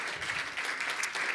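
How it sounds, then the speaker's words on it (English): Audience applause at a community meeting on political polarization, a brief, moderately quiet patter of many hands clapping, steady and without speech. "let's give a great hand of applause for Brady"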